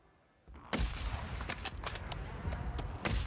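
Gunfire from a sniper shooter video game pops in a rapid burst of sharp shots after a quiet start, continuing irregularly at moderate level with no talk.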